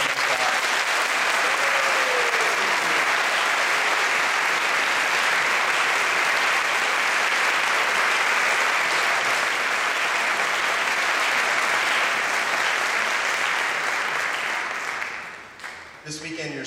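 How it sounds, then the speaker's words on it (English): Sustained applause from a large audience, loud and steady for a long stretch before fading out at the end. "Let's give all these students a round of applause."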